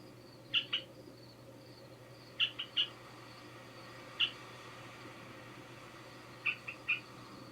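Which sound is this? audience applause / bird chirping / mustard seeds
bird chirping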